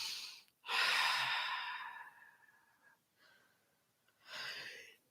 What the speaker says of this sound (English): Another yawn.